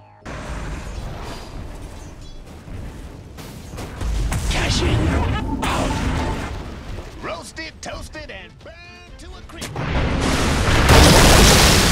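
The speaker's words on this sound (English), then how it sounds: "Dire's middle tower is under attack." A tower comes under attack in the video game Dota 2, with booming hits and bursts of explosive impacts that swell and fade over a dense, noisy fight. Voices are heard throughout.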